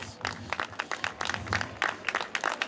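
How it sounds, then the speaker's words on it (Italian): Crowd at the Napoli City Half Marathon applauds the race winner, a lively patter of many hands clapping continuously at moderate distance with some crowd noise. "un grande applauso per Abel Kipchumba"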